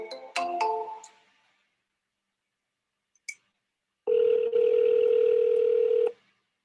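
A telephone on a live sales dialing session: a short tone sequence opens, a brief click follows after a pause, then a loud steady ring tone holds for about two seconds before cutting off.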